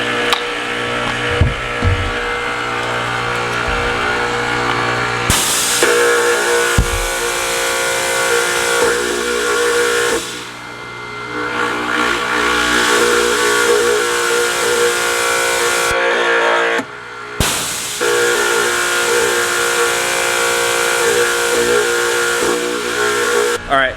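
A Ryobi 2300 psi electric pressure washer running from a gravity-fed tank gives a loud, close, continuous motor-and-pump drone. It cuts out briefly a few times before resuming, with occasional speech-like sounds underneath.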